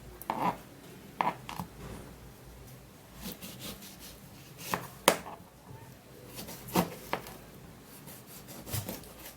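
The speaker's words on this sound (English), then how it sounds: "I'm just gonna cut the lemon plus the zest." A knife slices through a lemon on a board, giving about ten sharp, separate chopping taps spread irregularly over the clip, close and moderately loud over a quiet background, with no talking.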